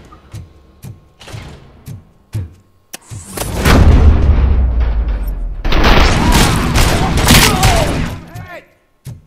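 Gunfire in the video game Robocop Rogue City: a few sharp separate shots open, then long dense volleys of loud, booming fire roll on, with voices heard in between.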